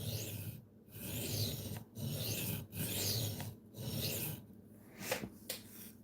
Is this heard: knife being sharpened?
yes